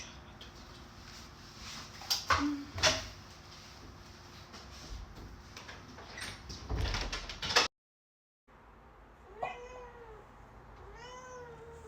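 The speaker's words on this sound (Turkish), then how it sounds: "Aç oğlum kapıyı." A door rattles and slides open indoors with loud knocks and scrapes over several seconds; after a brief silence, a cat meows twice nearby.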